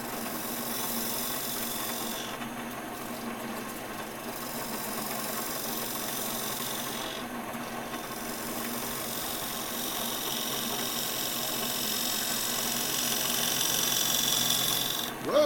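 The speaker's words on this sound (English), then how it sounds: "grab a Forstner bit and open that up with the Forstner bit" A Forstner bit bores into wood spinning on a lathe, giving a steady, loud grinding whir with a constant motor hum underneath, slight dips partway through and a brief swell at the end.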